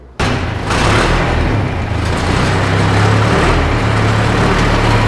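A homemade four-by-forklift's hydraulic system runs loud and steady near at hand, its low engine drone and pump whine swelling and easing as the forks are raised and lowered, with no talk over it.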